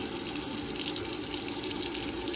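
Lukewarm water runs steadily from a tap to rinse a trumpet mouthpiece, a constant close hiss and splash with no talking.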